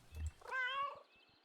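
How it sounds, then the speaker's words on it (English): A single clear meow from a white cat in the video game Kentucky Route Zero, drawn out and rising, preceded by a soft low thump, close and fairly quiet. "Another white kitty that we cannot talk to. Oh, no, we can talk to this one. Alert meow."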